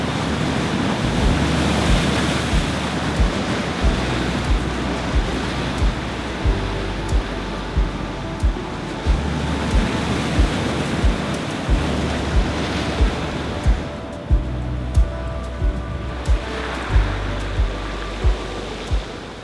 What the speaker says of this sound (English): A bit of swell coming in.